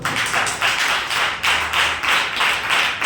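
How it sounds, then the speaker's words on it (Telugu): A church congregation claps together in loud, rhythmic waves, many hands beating in unison close by, with no talking. "చప్పట్లు కొడదాం."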